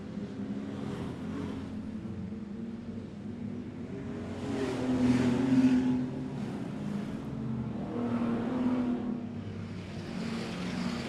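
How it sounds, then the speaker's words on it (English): Stock cars race around a speedway, a steady engine roar swelling loudly as the pack passes, then easing and rising again. The roar fills the whole stretch with no voices over it. "So those are the stock cars for those who aren't regulars to the Speedway."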